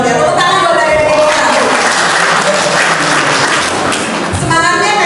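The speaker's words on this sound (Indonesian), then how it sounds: "Tepuk tangan buat adik-adik." Children at an orphanage's communal iftar gathering clap together in loud, dense, sustained applause that fills the room for several seconds before thinning near the end.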